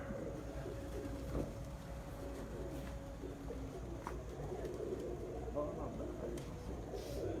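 Pigeons coo steadily close by as the first bird of an eight-pigeon flying contest in Sialkot, Punjab comes down to land, with people talking over the low, continuous murmur.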